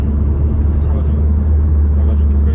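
Manual Kia Sportage R accelerating in third gear from below 2000 rpm, a steady low engine drone with road rumble heard from inside the cabin, loud and continuous.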